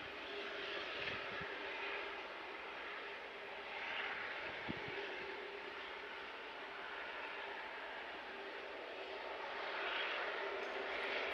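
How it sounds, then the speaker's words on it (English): An Airbus A380 at Manchester Airport produces a steady, distant jet roar that swells and fades slowly for several seconds, with a couple of faint knocks along the way. "We love our A380s at Manchester Airport, don't we, folks?"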